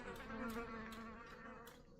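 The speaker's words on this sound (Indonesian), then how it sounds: "banyak lebah ya" Bees buzzing in the horror video game Martha Is Dead, a soft continuous droning hum with a slightly wavering pitch, quiet and steady throughout.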